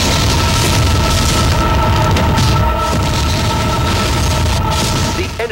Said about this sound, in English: That pressure wants to explode out in a volume of super heat.